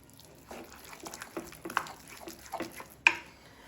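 A spoon scrapes and taps against a pan while methi paneer bhurji is stirred together with curd, giving soft wet clicks and scrapes at an irregular pace, ending in one sharper clink.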